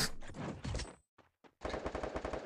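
Gunfire from a shooter video game: a sharp burst of rapid shots, a short near-silent pause broken by two brief cracks, then another sustained burst of automatic fire.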